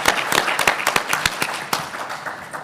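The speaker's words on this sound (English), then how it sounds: "Please give our panelists another round of applause." Audience applause for conference panelists at a transportation recovery session, a thin scattering of individual claps of moderate loudness that stays steady and fairly sparse throughout.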